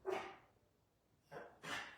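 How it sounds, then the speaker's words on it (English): Dog indoors barking at a construction truck reversing outside, two or three short, sharp barks separated by a quiet gap, fairly faint and alone. "That's what she's barking at, guys."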